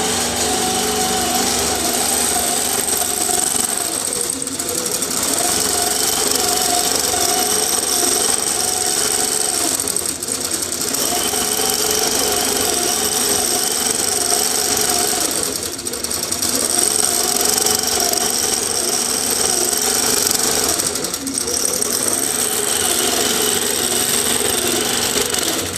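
A 2013 Millie longarm quilting machine runs steadily while stitching an allover feather pattern, its motor whine and needle hum continuous and close, with no voices.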